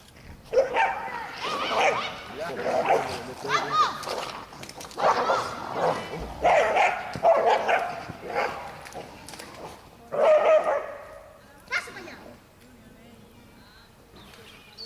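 Dogs bark and yip in repeated bursts, loud and close, mixed with voices and some whimpering, then trail off into quieter gaps.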